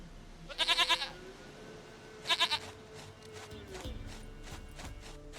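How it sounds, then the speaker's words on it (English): A goat in the Witcher 3 video game lets out two loud, quavering bleats, the second shorter, followed by faint low background hum and soft rustling. "Goat of mine, dearest, sweetest goat."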